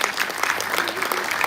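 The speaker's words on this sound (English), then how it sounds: "please give her a round of applause" Audience applause at an Islamic finance forum: a dense, even wash of many hands clapping throughout, moderately loud and unbroken.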